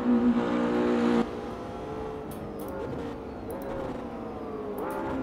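Ferrari race car engine in the Automobilista 2 racing game, loud and steady, with a strong high-revving tone for the first second, then dropping to a lower, wavering drone with repeated shifts in pitch.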